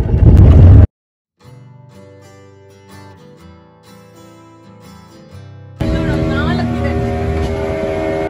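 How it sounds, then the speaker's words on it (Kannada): A boat on a sea trip from Kodi Beach, Kundapur, out toward an island: after a brief loud burst and a stretch of soft tonal music, a steady, loud engine and water roar takes over for the last few seconds. "ಈಗ ನಮ್ಮ ಬೋಟ್ ಐಲ್ಯಾಂಡ್ ಕಡೆ ಹೊರಡ್ತಾ ಇದೆ. ಬೋಟ್ ಸ್ಪೀಡ್ ಕೂಡ ಜಾಸ್ತಿ ಆಯ್ತು ಈಗ."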